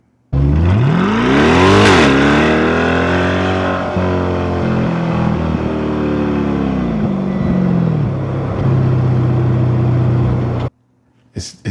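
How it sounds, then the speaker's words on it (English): A 2025 Chevrolet Corvette C8 E-Ray 2LZ convertible driving with the top down, its engine loud and close, revving up and shifting through rising and falling tones for about ten seconds before cutting off. "When you hear the engine,"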